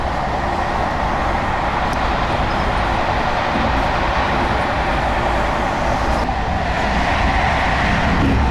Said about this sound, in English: We're in the train station of the Benguerir.